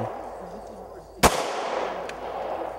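A single sharp gunshot from a recoiling firearm, fired outdoors, cracks loudly over low ambient noise and a faint voice, then trails off in a brief echo.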